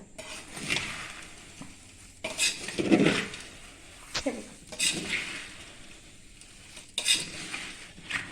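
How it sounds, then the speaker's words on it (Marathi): Kolhapuri bhadang, a puffed rice snack, being stirred and mixed with corn chivda in a pan or bowl, with soft rustling scrapes and occasional utensil clinks in irregular bursts, fairly close, with no talk. "हे बघा आता सगळं मिक्स करून घ्यायचं"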